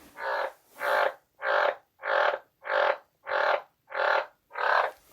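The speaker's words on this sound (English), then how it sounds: "you probably can hear my frog in the background, Neville." A pet frog croaks in eight evenly spaced, raspy calls at a steady rhythm, fairly close and clear, with no talking over it.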